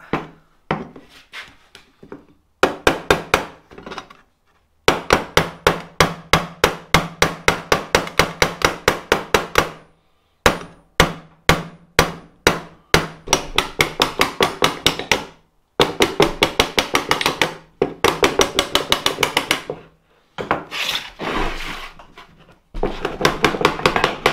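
Small blacksmith hammer tapping metal bike parts, long runs of rapid, sharp, ringing strikes in quick bursts separated by brief pauses, loud and close with no talk.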